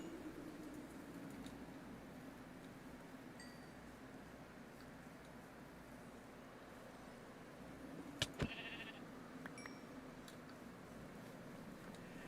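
Sheep bleat in modded Minecraft, a few short calls near the middle over a steady low game ambience, with no voices.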